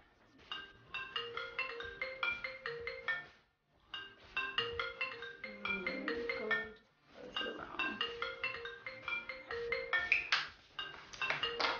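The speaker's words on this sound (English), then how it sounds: "And that is my phone again." A mobile phone ringtone plays through a tuneful, chiming melodic pattern that repeats in three phrases with short gaps, faint and a little distant in a quiet room.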